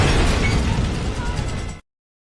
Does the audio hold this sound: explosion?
yes